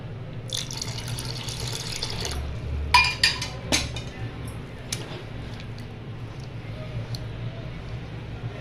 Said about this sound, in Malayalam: നമുക്ക് കുറച്ച് വെള്ളം ഒഴിച്ചിട്ടൊന്ന് നന്നായിട്ട് ഇളക്കാം കേട്ടോ